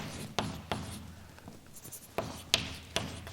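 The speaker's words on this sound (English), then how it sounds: "So let me write that down" Chalk or marker tapping and scratching on a board during a lecture on numerical optimal control, a handful of sharp taps spaced irregularly over soft strokes, fairly close, with no talking.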